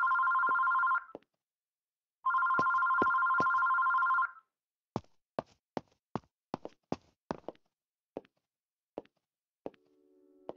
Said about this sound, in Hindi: कोई फोन आ रहा है यार।